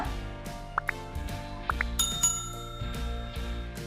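A bright bicycle-style bell dings once as a subscribe-notification sound effect, ringing briefly over soft background music.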